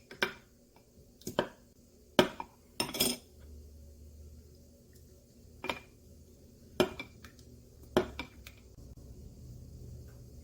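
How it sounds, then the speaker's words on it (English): A spoon mixing a soy sauce and honey marinade in a bowl gives a series of separate clinks and taps against the bowl, about ten in all, spaced irregularly over a quiet background. "Ensure that you mix the marinade well."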